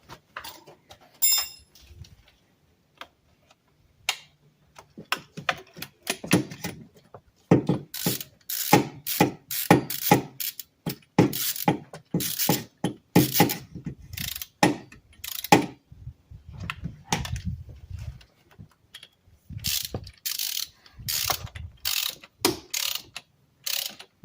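A ratchet torques down intake bolts on a 2008 Dodge Charger, sounding as repeated bursts of sharp, close clicking with short pauses between strokes.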